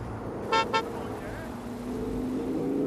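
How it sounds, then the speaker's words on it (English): A car horn in the video game Watch Dogs Legion gives two quick, close honks over a steady hum of engine and traffic. "I'm honking, guys!"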